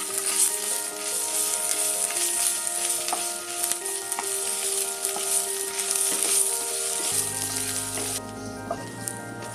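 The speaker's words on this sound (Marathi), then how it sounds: "दोन मिनिटं कांदा आणि आलं लसूण पेस्ट परतून झाली आहे।" Onion, curry leaves and ginger garlic paste sautéing in hot oil in a pan, giving a continuous bright sizzle with occasional stirring, easing off near the end.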